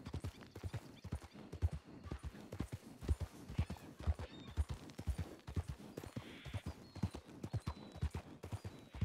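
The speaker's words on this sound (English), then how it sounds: "I've made my horse very angry, Jack." Rapid clip-clop of galloping horse hooves in the video game Red Dead Redemption 2 fills the clip, steady and close, with a brief horse whinny partway through.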